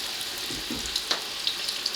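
Vegan vegetable fritters fry in hot oil in a pan, a steady close hiss of sizzling with small pops and crackles scattered through, no talking.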